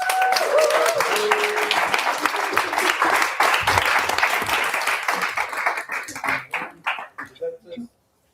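A show audience breaks into loud, dense applause after a performance, with voices mixed in, and the clapping thins into scattered claps before stopping.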